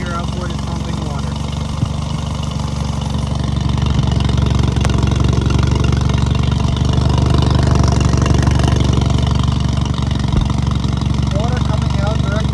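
A 1999–2001 Johnson Evinrude 9.9–15 hp four-stroke outboard motor runs steadily at a low, even idle, a continuous close engine drone that holds level throughout with no one speaking.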